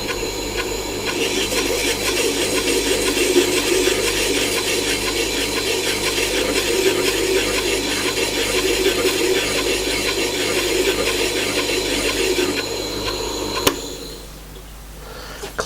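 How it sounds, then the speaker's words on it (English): A blade just taken out of a sharpening jig in a home workshop has its burr rubbed off, giving a steady, continuous rasping scrape close by that runs for about fourteen seconds, then stops abruptly with a brief click. "take it out of the jig and take the burr off"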